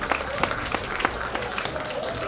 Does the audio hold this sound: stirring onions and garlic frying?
no